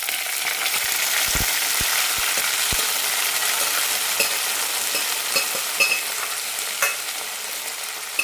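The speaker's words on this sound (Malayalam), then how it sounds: "ഇനി ഇതിലേക്ക് മുതിര വേവിച്ചത് ഒഴിക്കാം" Cooked horse gram hits a hot pan with a steady, loud hissing sizzle that runs throughout, dotted with a few brief clicks of stirring.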